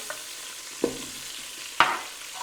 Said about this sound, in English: just throw the onion in